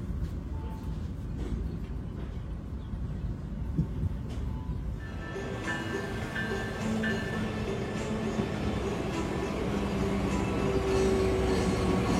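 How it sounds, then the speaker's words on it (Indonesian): The Sembrani passenger train from Gambir to Surabaya Pasar Turi rumbles steadily into a station, a loud continuous roll of wheels and engine with squeals and clanks rising partway through. "Yang baru masuk ini adalah kereta api Sembrani dari Gambir tujuan ke Surabaya Pasar Turi."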